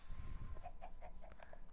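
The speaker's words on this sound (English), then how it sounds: "at least there's a chicken" A chicken in a survival video game clucks in a quick series of soft, short clucks, close but quiet, over low background rumble.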